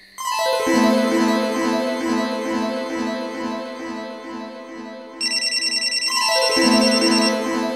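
A mobile phone rings with a repeating melodic ringtone, loud and close, playing several cycles alone and shifting to a higher tone partway through.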